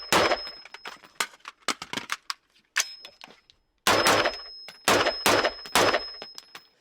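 An H&K G95K clone rifle fitted with a 3-prong flash hider fires in sharp close bursts and single shots, each report followed by a high, sustained metallic ringing bing that hangs under the gaps between shots.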